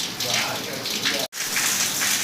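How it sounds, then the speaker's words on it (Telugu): Heavy rain pours steadily in a dense hiss on surfaces, with a brief near-silent break midway before the downpour resumes just as strongly. "ఈ వాన ఏంటో ఇంకా ఎక్కువ అవుతుంది కానీ ఆగడం లేదండి"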